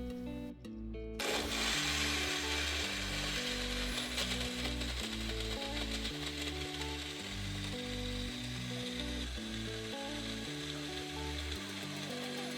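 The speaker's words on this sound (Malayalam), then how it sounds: "ഇനി ഇതെല്ലാം കൂടെ നമുക്ക് മിക്സിയിലിട്ട് നന്നായിട്ട് ഒന്ന് അടിച്ചെടുക്കാം" An electric mixer grinder blends a green smoothie. After about a second it starts a loud, continuous whirring drone whose motor pitch shifts in steps, with no talk.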